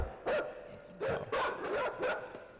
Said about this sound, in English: There's a dog now.